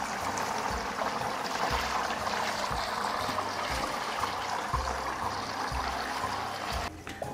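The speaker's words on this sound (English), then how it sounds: "Now all we have to do is pour this into our colander" Cheese curds and whey for homemade provolone pour steadily into a colander set over a bucket, a quiet continuous splashing trickle with a few soft low thumps.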